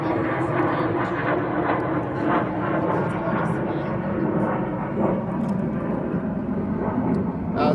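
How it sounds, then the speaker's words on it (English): A propeller or jet airplane passes overhead outdoors, a broad rumbling roar that swells and holds steady through the whole stretch, with a person speaking faintly underneath. "Let me wait till the plane goes."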